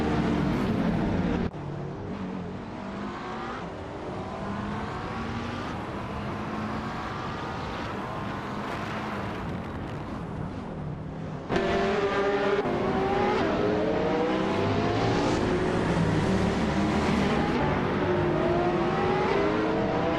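Several race cars roar through a racing video game, engines droning and shifting pitch with revs and overlapping harmonic whines, a sharp louder surge midway as the pack keeps up steady, continuous, close engine noise.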